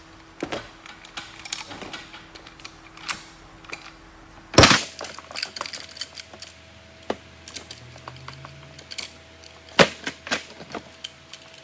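Hand metal cutters make a straight cut during air-conditioning fitting on a 1954 FJ Holden ute, giving a close series of sharp snips and clicks with one loud crunch partway through and no talk.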